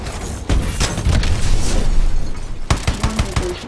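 A rocket launcher fires and an explosion booms in Call of Duty: Advanced Warfare, a loud sustained roar of blast and debris followed by a sharp second burst of impacts near the end.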